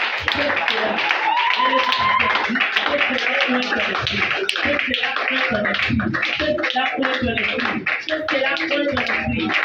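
A church congregation breaks into continuous applause, dense clapping lasting throughout, with voices and cheering mixed in.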